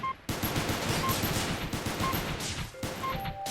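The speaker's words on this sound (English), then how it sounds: "You can see the shots going through the windows" Turrets in Space Station 14 fire on a shuttle in a rapid, continuous burst of gunfire, loud and close, with short tonal beeps scattered over it.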